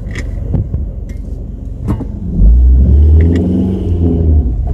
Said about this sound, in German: Wir fahren einfach Landstraße.